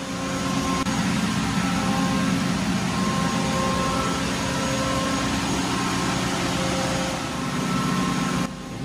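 A ship's emergency generator engine runs in a steady, loud, continuous drone and hum inside its compartment, with no talking.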